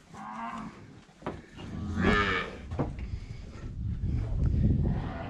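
Weaned cattle calves in a corral moo several times, a few loud close calls mixed with others farther off, over a low outdoor background.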